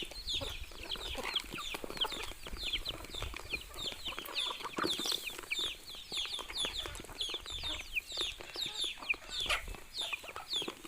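Several native country chickens (nattu kozhi) cluck and chirp continuously nearby while feeding, with soft scratching and pecking sounds mixed in, no talking.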